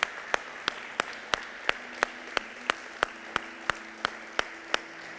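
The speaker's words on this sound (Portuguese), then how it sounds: "Dê uma salva de palmas para o papai." A church congregation at a special Easter service claps together in a steady, evenly spaced rhythm, sharp hand claps repeating about three times a second over a low background hum.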